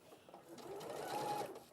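A sewing machine stitching fabric pieces together in a sewing studio, a steady continuous mechanical whir running throughout with a faint voice briefly in the background.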